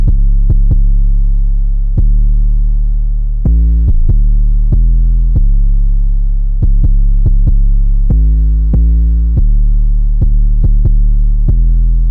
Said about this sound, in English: that hard 808 pattern, you know, it has this like really one type of rhythm